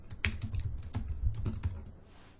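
Rapid typing on a computer keyboard, a close run of light, irregular clacking keystrokes with brief pauses, heard alone with no talking.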